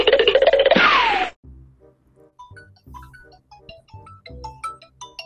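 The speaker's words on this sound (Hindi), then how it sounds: "बे यार इसकी क्यों कॉल आ रही है?" A mobile phone rings with an incoming call, a melodic electronic ringtone of repeated chiming notes that follows a loud burst of noise and plays clearly on its own.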